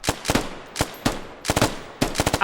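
Bursts of automatic gunfire from the video game Squad come in rapid clusters of loud, close shots separated by short pauses, with no talking.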